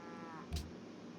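A single short cattle moo from Civilization V, brief and moderately loud, sounding over a steady ambient game soundscape.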